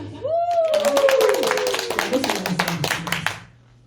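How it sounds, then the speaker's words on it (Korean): In a Korean trot singing class, a group claps in a steady, quick rhythm while a voice sings over it. The claps are close and bright and stop after a few seconds. "박수"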